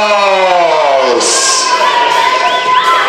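Spectators at a women's Division 2 football match, CS Mars Bischheim versus US Rouvroy, cheer loudly and steadily, with high whoops and children's shouts rising over the roar.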